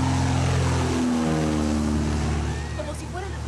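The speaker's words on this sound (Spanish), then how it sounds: "La cámara, situada a unos 500 metros de la avioneta, grabó el despegue." A Cessna 172 light aircraft taking off in Colombia, recorded from roughly 500 metres away: a steady, loud propeller-engine drone holds throughout and eases off slightly near the end.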